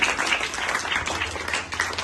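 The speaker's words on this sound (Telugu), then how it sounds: "అందరూ మరొకసారి చప్పట్లు తెలియజేయాలి" Audience applause at a school event in honour of a guest, a dense, steady patter of clapping that fills the short stretch at moderate loudness with no voices over it.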